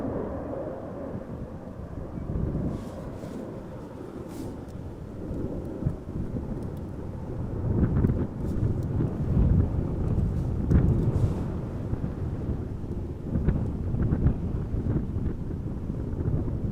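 Wind buffets a microphone at Amsterdam Schiphol Airport, a continuous low rumbling roar with gusty swells and faint rattles, steady and close, with no talking.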